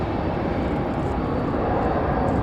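An American Airlines Airbus A321 touches down at Raleigh-Durham airport on a windy day, its steady, loud broadband jet roar filling the air without letup.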